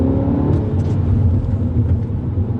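A Mini GP3 on a race track pulls hard under acceleration, its engine a loud, steady, close rumbling drone with a gritty edge, running without pause.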